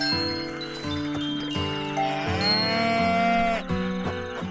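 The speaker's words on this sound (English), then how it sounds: "Cows." Cows in a cute farming video game moo in a series of drawn-out, tonal calls that overlap with gentle chiming game music, close and clear with no talking.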